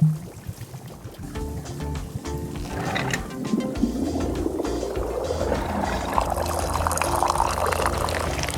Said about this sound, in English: pull the rope you see here in order to pour tea into the cup